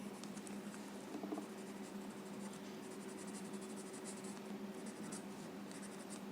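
A graphite pencil draws light, soft strokes on paper for a Zentangle ornamental bookmark, giving a faint, close scratching that comes in short repeated bursts over a quiet background.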